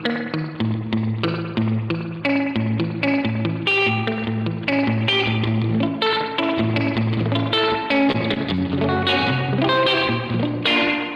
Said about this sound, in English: they've been able to synthesize the sound of the springs shaking, like, and put that into a pedal